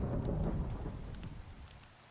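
Steady rain from a thunderstorm in modded Minecraft, a dense hiss with low rumbling underneath that starts loud and gradually eases off, with no talking.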